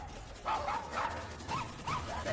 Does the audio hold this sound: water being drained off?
no